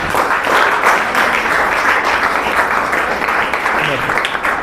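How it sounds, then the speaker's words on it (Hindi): Audience at a school gathering of Mother's International Academy applauds steadily, a dense, loud, continuous clapping from a crowd that fills the whole stretch, with faint voices underneath. "इनके नाम पे थोड़ा ताली बजाइए तो।"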